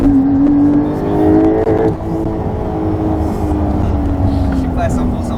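Porsche 911 GTS accelerating hard with brief wheelspin at the rear, a loud close engine roar climbing in pitch and then settling into a steady drone, with voices talking over the engine noise.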